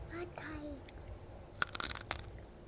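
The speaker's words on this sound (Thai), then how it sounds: "อันนี้มีไข่ด้วยทุกคน กัดไข่เลย" Someone bites into grilled shrimp with roe, giving a few sharp close crunches after someone speaks briefly.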